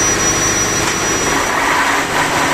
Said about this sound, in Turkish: Makine çalıştı.